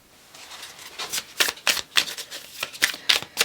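A deck of oracle cards being shuffled by hand, a rapid series of crisp riffling bursts and slaps, close and clear with no voices.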